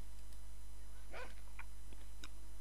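A dog in the horror video game Ju-on gives a couple of short yips and a whimper, moderately close, over a steady low background hum.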